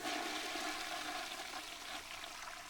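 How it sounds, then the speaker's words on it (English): A toilet flush sound effect fired from a Stream Deck button, a steady rushing, gurgling water wash that stays loud and even for nearly three seconds with no voices. "I can just play that toilet flushing sound"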